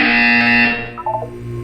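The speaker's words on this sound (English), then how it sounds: "When you hear the buzzer, look up at the ceiling." A loud sustained electronic buzzer from the video game Portal 2, a harsh steady tone that cuts off after about three quarters of a second, followed by fainter stepped electronic tones.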